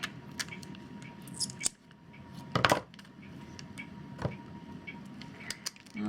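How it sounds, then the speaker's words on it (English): Scissors cut paper for a handmade Christmas journal, giving a few sharp, scattered snips and rustles. The handling is quiet, close and intermittent in a calm room, with no voices. "And then I'm just going to cut it."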